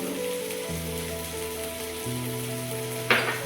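Spices sizzle steadily in a pan for a rita (ritha) fish curry, a soft continuous frying hiss with a brief scrape of stirring near the end, and no talking.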